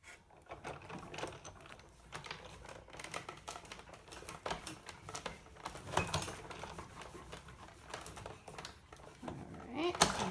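A manual die-cutting machine feeds Glimmer Paper with a butterfly die through its rollers, giving a steady close clatter and grinding texture with sharper clicks toward the end, under light talk.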